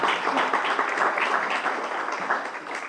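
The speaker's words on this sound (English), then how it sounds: "let's give them applause" Audience applause in an auditorium at a Title IX event, a dense, steady wash of clapping from many hands that fades slightly toward the end.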